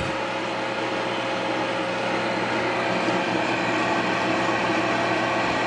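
A homemade lawn-drum forge blower pushes air out in a steady, even rush with a low motor hum, holding constant and fairly close for the whole stretch with no talk over it.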